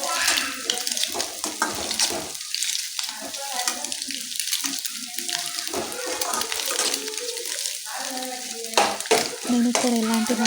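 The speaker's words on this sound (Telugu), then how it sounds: "వేసుకొని బాగా పచ్చి వాసన అయ్యేంత వరకు బాగా కలుపుతూనే ఉండాలి" Egg rice with ginger paste being stirred and fried in a home kitchen pan, a steady sizzle under repeated scraping and clinking strokes, with a brief stretch of voice and tap-water sounds mixed in.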